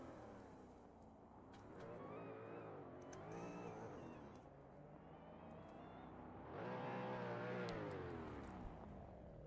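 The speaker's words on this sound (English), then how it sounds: "Also a very interesting sound. I believe it's a flat 4 sound" A Subaru BRZ drift car with a flat-four sound revs and drones at a pro spec drift competition, the engine note rising and falling in long sweeps, heard from a middle distance with surges louder toward the end.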